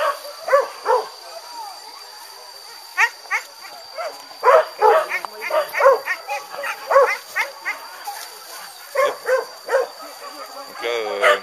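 Hunting dogs bark and yelp during a wild pig hunt in Sumatra, a string of sharp, irregular barks and squeals at varying distances, with people talking intermittently.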